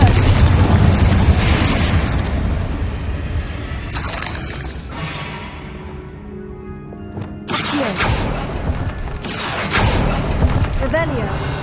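Confringo spell explosions in Hogwarts Legacy, several heavy booming blasts with crackling bursts spaced across the span, loud and close amid game sounds, with a voice speaking at times.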